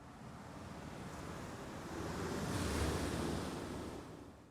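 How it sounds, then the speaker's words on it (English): Ocean surf captured by a microphone set outside a window, a steady broadband wash that swells louder in the second half, with no voices present. "that's the ocean that you hear in that album."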